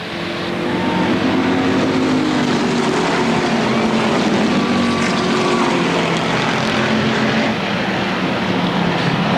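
Race cars roar together around the Motordrome Speedway oval in a 1992 stock car event, a steady loud blended engine drone with shifting pitches as the pack passes, continuous throughout.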